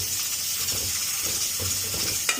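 Chili powder hitting hot oil in a pan, a continuous bright close sizzle with faint stirring bumps underneath and a single sharp clink near the end.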